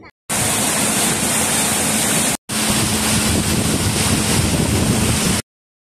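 Boat crossing Tasik Kenyir lake, a loud continuous rush of engine, water and wind buffeting the microphone, broken by one brief cut before the roar resumes.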